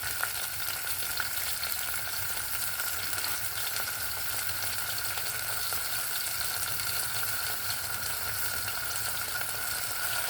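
Tomato curry ingredients, with tamarind juice added, sizzle steadily in a pan, producing a continuous close hiss and crackle with occasional stirring, and no voices over it.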